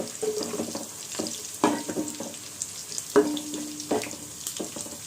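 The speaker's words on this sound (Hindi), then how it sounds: "4 से 5 लौंग है, 4 से 5 हरी इलायची है और शाजीरा है 1 चम्मच। अब इन सभी चीज़ों को अच्छी तरह से भून लीजिए।" Whole cloves, green cardamom and caraway seeds frying in a pan for Hyderabadi chicken aloo pulao, a soft crackling sizzle with a few louder stirring clatters and scrapes, close and fairly quiet, no talking.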